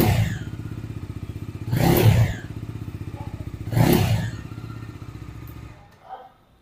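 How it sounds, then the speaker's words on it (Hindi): A Bajaj Dominar 250 motorcycle engine idles close by with a steady, deep pulsing thump, broken by two short blips of throttle, then cuts off near the end. "जैसे ही बाइक स्टार्ट होती है ऐसा लगता है कि कोई भारी बाइक, कोई बड़ी बाइक स्टार्ट हो रही है"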